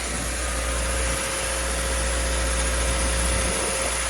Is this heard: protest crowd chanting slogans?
no